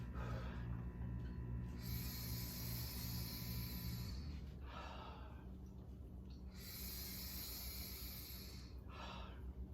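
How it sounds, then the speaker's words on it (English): Slow, deep breaths drawn through an O2 Trainer breathing device during a bend-forward-to-upright exercise, with long airy inhales and exhales alternating in a steady rhythm, close and clear. "breathing in as you go from this bend forward position to being upright"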